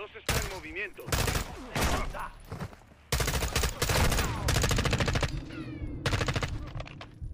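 Sustained automatic gunfire in Call of Duty Modern Warfare 2, loud rapid bursts of machine-gun fire in long stretches with short gaps, dense and close, with voices chattering underneath.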